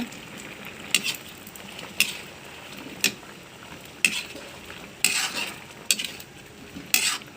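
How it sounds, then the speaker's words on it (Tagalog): Bananas boiling in a pot are stirred with a utensil, giving a series of short scraping clinks roughly once a second over a steady bubbling simmer, with no talking. "Haluin-luin lang natin."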